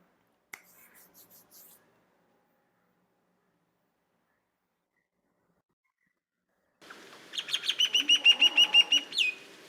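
A recorded wild bird call plays during a webinar: a brief faint burst, a long silence, then a loud series of about ten quick, ringing harmonic notes repeated in an even rhythm.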